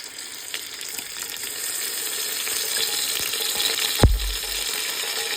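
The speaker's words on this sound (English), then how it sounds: "Go ahead as well and add in our diced tomatoes." Diced tomatoes dumped into a pot of stewing chicken, a soft wet plop landing near the end over a steady sizzle and simmer of the cooking pot.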